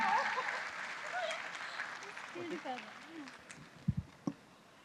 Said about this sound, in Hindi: तो इस खूबसूरत से परिवार के लिए जोरदार तालियां आ जाएं ऑल टुगेदर